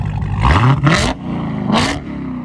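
A 2018 Dodge Demon with a 6.2L supercharged Hemi V8 and dual straight-pipe exhaust rumbles loudly at close range, blipping into two sharp revs over a deep idle, with no talking.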